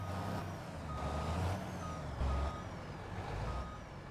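A farm truck in a farming simulator game idles steadily while a repeating reversing beeper sounds over the engine, with air-brake hiss.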